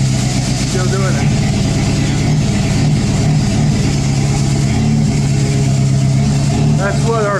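A Jeep engine with a sputtering fault running after a MAP sensor replacement, a loud, close, continuous rumble with an uneven, stumbling pulse, while people talk over it.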